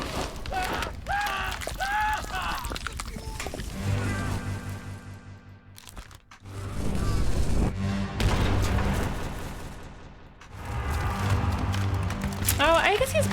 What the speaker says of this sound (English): Oh, I guess he's blasted by an explosion.